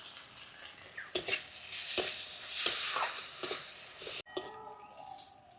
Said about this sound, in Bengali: মশলাটা কিছুক্ষণ কষিয়ে নিয়েছি